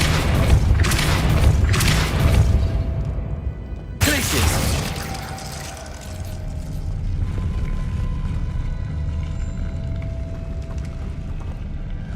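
A Glacius freezing spell cast in Hogwarts Legacy: a sudden loud burst with a shattering, crackling edge partway through, dying into a sustained rumbling tail over steady game noise.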